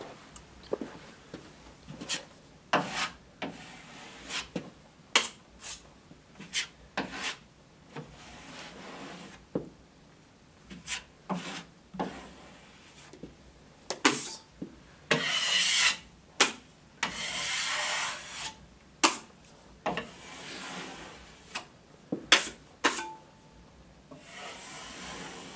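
A drywall knife scrapes joint mud over a butt joint and corner bead, a quiet series of short rasping strokes in an uneven rhythm, some longer and louder than others, close by with no talking.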